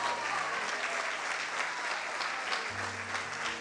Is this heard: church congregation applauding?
yes